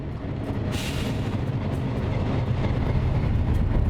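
A vintage historic locomotive rumbles steadily along the rails, a continuous heavy low drone with faint rhythmic clatter, close and unbroken for the whole stretch.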